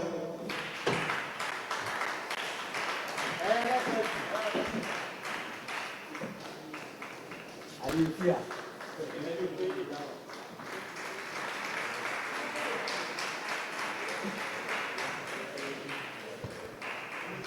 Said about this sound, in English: Presidential candidates, let's clap for them.